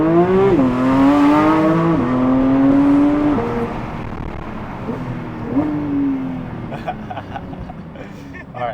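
A Honda-style VTEC car engine revs hard with rising and falling engine notes and gear-change drops, loud and close, and someone talks over it before the engine fades into road noise.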